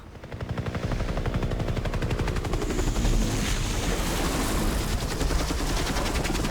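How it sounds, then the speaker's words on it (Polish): Helicopter in the Far Cry 3 video game, a loud steady rotor chop with a rapid repeating beat sustained throughout, mixed with bursts of machine-gun fire in a dense combat soundscape. "Na serio? Helikopter?"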